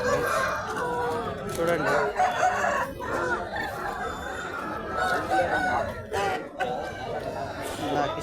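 Roosters, fighting cocks for sale, crow repeatedly at the Pileru rooster market, their calls mixing with dense crowd chatter and nearby clucking. Someone talks close by over the busy market noise.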